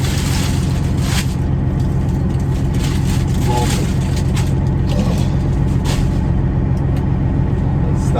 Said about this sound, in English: I just fired the truck up.